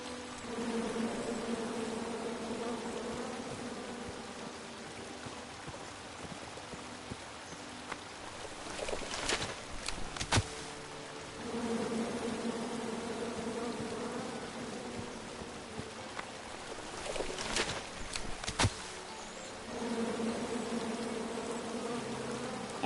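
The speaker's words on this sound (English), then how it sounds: "Come at me, bees!" Angry bees buzzing in The King's Quest video game, a droning hum that swells in waves separated by sharper bursts and clattering hits, steady and fairly close, with no talking.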